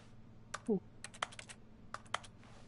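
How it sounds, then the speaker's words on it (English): In The Stanley Parable, interacting with objects triggers keyboard typing: a few quiet, crisp clusters of keystrokes in quick bursts with pauses between, plus a brief low murmur early on. "Why does it sound like every time I interact with something,"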